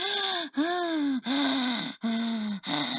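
A person imitates gasping for breath as if short of breath, in four or five loud, strained, voiced gasps in an even rhythm, close up.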